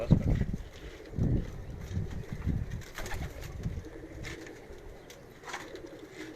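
Pigeons coo in a loft, soft low throaty calls repeating at close range in several bursts, with faint rustling and wind behind them.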